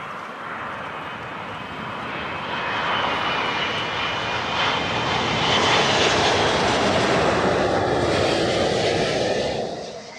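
Airliner landing at Heathrow Airport, a loud, broad jet roar that builds gradually, holds near its peak for several seconds, then begins to fade as the aircraft passes.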